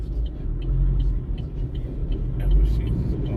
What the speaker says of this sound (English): This first car is a cab, probably Uber or Lyft